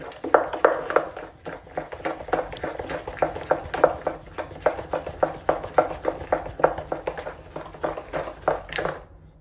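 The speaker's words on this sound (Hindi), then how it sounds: "तो लगातार इसको चलाना है।" Gulgule batter stirred steadily in a bowl, a close, continuous run of soft rhythmic scraping and clacking strokes repeating about every third of a second until it stops at the end.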